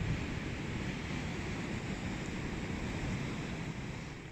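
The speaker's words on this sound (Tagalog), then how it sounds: "Malakas ang hangin." Steady, loud rushing wind roars through the whole stretch, a broad continuous noise with rumbling buffeting at the microphone and no voices.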